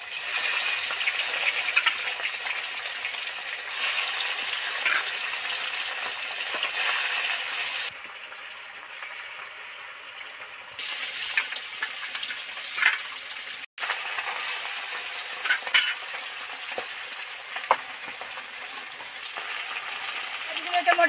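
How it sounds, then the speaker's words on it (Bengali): Bata fish fry in hot oil with turmeric powder in a pan, a dense steady sizzle and crackle that drops to a quieter hiss for a few seconds before surging loud again, with no voices. "মাছ তো বাটা মাছ তো একটু ধরে ধরেই ভাজতে লাগে, তবেই ঠিক ভাজা হয়।"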